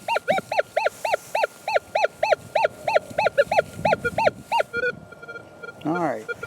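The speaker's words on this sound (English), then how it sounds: "here's a target that sounds pretty small" Repeated warbling beeps from a Minelab Equinox 800 metal detector with a 6-inch coil sweeping over a small gold target, about a dozen rising-falling tones in steady rhythm, then a brief different chirp near the end, loud and close.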